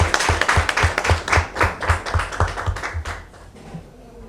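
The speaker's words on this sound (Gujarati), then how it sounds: "અમે જોરદાર તાળીઓ પાડીએ." An audience at a business meeting claps in a strong, steady rhythm to welcome a guest, the even beats gradually softening and fading toward the end.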